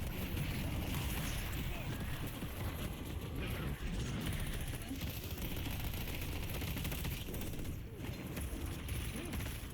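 Video game turrets firing continuously, a dense, loud barrage of rapid gunfire mixed with mechanical clatter, unbroken for the whole stretch.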